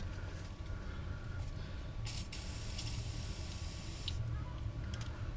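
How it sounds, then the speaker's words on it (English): An aerosol can sprays penetrant onto a corroded rear strut clip on a 2006 Subaru Impreza R Sport during a strut replacement. Short hissing bursts stand out over a low background rumble, close to the microphone and fairly quiet. "So we'll spray a wee bit more."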